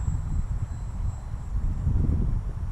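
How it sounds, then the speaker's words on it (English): Strong outdoor wind buffets the microphone on a very windy Florida day at a model airplane flying field, a steady low rumble with gusty surges and no talk. "I got some serious wind though."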